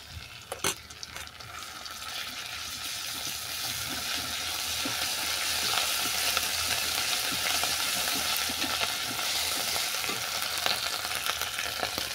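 Ginger paste added to oil with garlic fries in a pan, making a steady close sizzle that swells slightly and continues evenly, with occasional scraping clicks and no talking.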